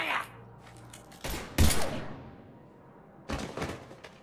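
Gunfire in Mass Effect 3 cracks out in several loud bursts, a heavy pair of shots, then a later cluster of quick blasts, with faint voices and quieter gaps between.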